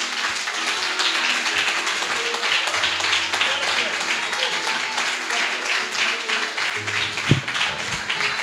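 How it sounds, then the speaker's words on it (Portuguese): A church congregation applauds during a sermon on the prodigal son, with sustained, loud rhythmic clapping and a voice speaking over it, plus a sharp knock near the end. "Você pode aplaudir o Jesus por essa palavra?"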